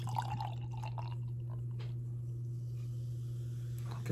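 Great Divide Brewing White Russian Yeti stout pours steadily into a glass with faint trickling and dripping over a constant low background hum.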